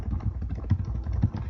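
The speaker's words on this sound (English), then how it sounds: "If you hear that in the background, that's just me typing." Typing on a computer keyboard, a quick uneven patter of soft clicks and taps close to the microphone, a few keystrokes landing harder than the rest.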